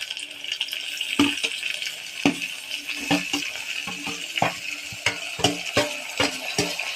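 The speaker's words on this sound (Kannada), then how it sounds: "ಈಗ ಟೊಮೊಟೊ ಹಾಕತ್ತಾ ಇದ್ದೀವಿ" Chopped tomatoes going into golden onions frying in ghee in a home kitchen: irregular metallic scrapes and clinks of a spoon stirring in the pan over a steady sizzling hiss, close and moderately loud.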